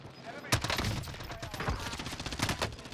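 Rapid bursts of gunfire from the Call of Duty Modern Warfare video game on the Alcatraz map, loud and dense automatic fire cracking through the whole stretch with faint talk underneath.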